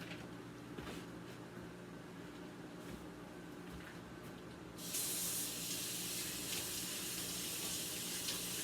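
Water gushes from a kitchen tap while dishes are washed at a sink, a steady spraying hiss that jumps louder partway through as the flow is opened up, with no talking.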